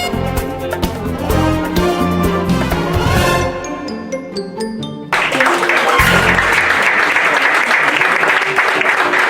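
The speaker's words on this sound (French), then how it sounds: "on les applaudit encore plus fort, mesdames et messieurs" Audience applause fills a pageant venue in Paris, a dense sustained clapping crowd mixed with loud stage music and jingly chimes, with a brief announcer's voice over it.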